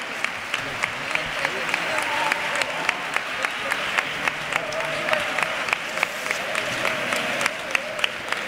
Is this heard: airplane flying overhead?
no